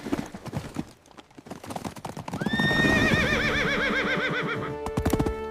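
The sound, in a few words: horses neighing and galloping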